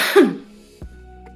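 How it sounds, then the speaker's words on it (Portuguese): A single strong cough from a nearby person, sharp and loud at the start, followed by a softer second throat-clearing burst, with no talk. "E agora, faz uma tosse bem forte."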